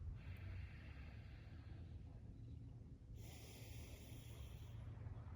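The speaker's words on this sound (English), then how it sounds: "Deep breathing, outward." Slow, deep nasal breaths during a beginner yoga stretch, a soft airy inhale followed by a longer hissing exhale, close and fairly quiet with no talking.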